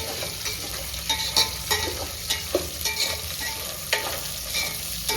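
Mixed vegetables frying in a pan for a vegetable pulao, with a continuous sizzle and repeated scraping and clattering strokes of a spatula being stirred close by, alone with no voices.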